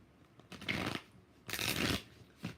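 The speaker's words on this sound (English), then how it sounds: "Last shuffle." Tarot cards being shuffled by hand in two rapid riffling bursts, each about half a second long, with a quieter start of a third. The sound is soft and close, with no talk over it.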